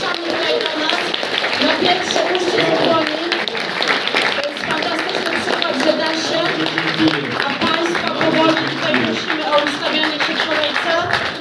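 Audience applause at a political meeting in Gorzów Wielkopolski, a dense, steady wash of clapping that carries evenly through the whole stretch while a voice speaks over it.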